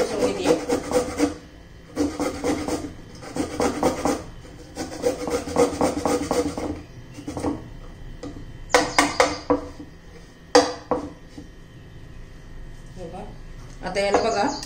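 Garlic cloves are grated by hand for a bitter gourd dish, with rhythmic bursts of dry rasping strokes separated by short pauses, then scattered scrapes and clicks near the end.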